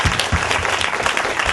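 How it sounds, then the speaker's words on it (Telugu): An audience at a church meeting claps loudly and continuously, a dense burst of applause from a crowd. "చప్పట్లు కొట్టాలి గట్టిగా"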